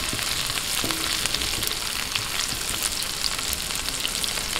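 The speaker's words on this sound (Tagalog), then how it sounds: "Ito pong sili, isasama ko po sa paggigisa, isasabay ko para talaga lumabas yung kanyang anghang." Chili peppers sauté in a hot pan for chicken feet adobo, a dense continuous sizzle with faint stirring scrapes, close and loud with no talk.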